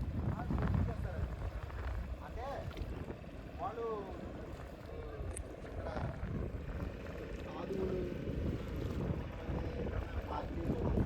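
A boat engine rumbles over buffeting wind and splashing rough sea water where the Godavari meets the sea, with voices talking intermittently underneath the steady, rough noise.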